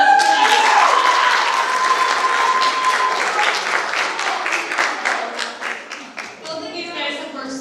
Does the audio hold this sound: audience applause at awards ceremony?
yes